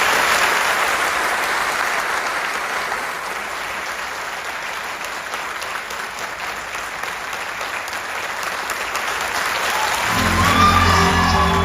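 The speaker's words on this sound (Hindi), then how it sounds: "एक बार अपने लिए ताली बजा सकते हैं?" A packed hall at a Modicare business meeting in Varanasi gives a long, dense round of applause, steady and loud throughout, swelling near the end as a voice and music begin over it.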